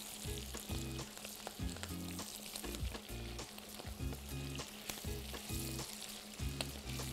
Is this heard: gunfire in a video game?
no